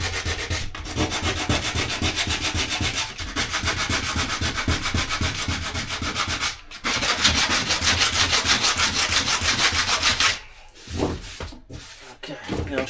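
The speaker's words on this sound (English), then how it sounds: "I've rubbed all this back, so that's all nice and smooth now" Wood being rubbed back by hand until smooth during a van build, a steady close scraping and sanding rasp running almost continuously, with two brief pauses.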